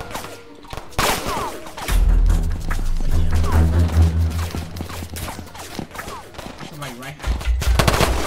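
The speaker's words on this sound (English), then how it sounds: "I'm getting shot at and stuff." Bursts of automatic gunfire in the video game Tha Bronx 2, loud and rapid, mixed with other game sounds and muffled chatter.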